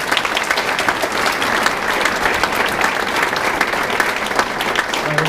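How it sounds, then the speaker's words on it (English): A banquet crowd at a high school track and field event applauds, a thick continuous wash of clapping holding steady and fairly loud throughout, with no voices rising above it. "So let's give Jack a round of applause"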